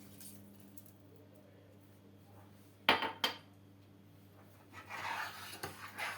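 A spoon mixes lemon salt and homemade vinegar in a bowl for a quick pickle, giving two sharp clinks against the bowl followed by softer, quiet stirring and rubbing.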